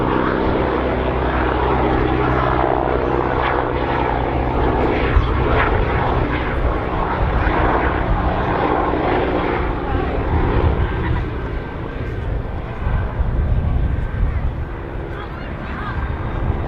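A propeller aircraft flies a wingover at an airshow with a loud, continuous engine drone that swells and wavers, while a commentator speaks over the sustained roar.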